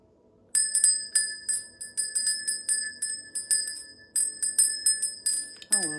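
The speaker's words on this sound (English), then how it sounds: "I'm going to use the bell" A small hand bell rung repeatedly before a card reading, with bright, close, ringing strokes in a steady rhythm and tones left sounding between strikes.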